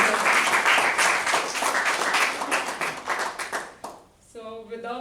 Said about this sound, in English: a special round of applause for the Toastmaster of the day, Minesh